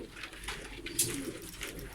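Pigeons coo softly in a low, throaty murmur inside a pigeon coop holding female birds, against a faint background hiss.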